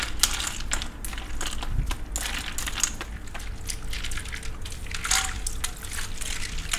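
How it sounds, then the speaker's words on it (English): Soba noodles go into a bowl of ice water in a kitchen, making soft sloshing, trickling and crackling water sounds close by, with faint background hum. "Then I'm gonna put into the ice water."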